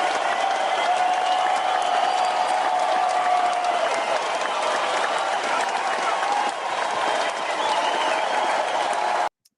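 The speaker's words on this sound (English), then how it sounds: "Everybody give him a round of applause." Sustained crowd applause welcoming a new member during a livestream, steady and fairly loud for about nine seconds before stopping abruptly.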